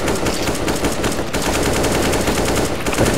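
Continuous loud automatic gunfire in a Counter-Strike: Global Offensive zombie escape match, rapid overlapping shots filling the whole stretch without a break.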